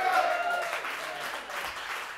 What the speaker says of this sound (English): Would you please give a round of applause to Isaiah Thomas?